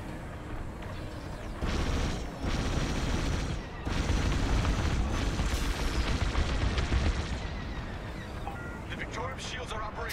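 Starfighters in Star Wars Squadrons fire their weapons in dense bursts of blasts over a constant engine roar. Louder volleys come in waves, and voices talk over the combat noise.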